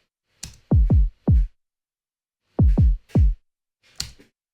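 Deep synthesized kick drums made on a modular synth with a Make Noise DPO, six punchy thumps in two groups of three, each dropping quickly in pitch, with a few short hissy ticks around them.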